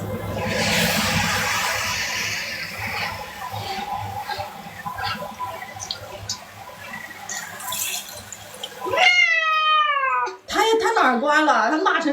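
A pet cat being bathed lets out loud, drawn-out meows near the end, while running water from a tap patters and a person talks throughout.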